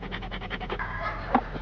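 A police training dog at a college pants in quick, rhythmic breaths close to the microphone, with a brief sharper sound near the end.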